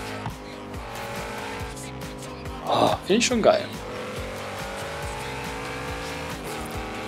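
A race car drives in Forza Horizon 3, giving a steady engine drone with brief tire squeal and skidding near the middle while someone talks over it in German.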